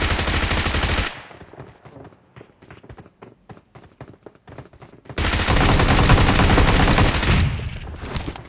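Bizon submachine gun fire in BGMI, a mobile battle royale game, with a loud sustained burst, then a stretch of quieter rapid clicking shots and footsteps, then another long loud burst of automatic gunfire.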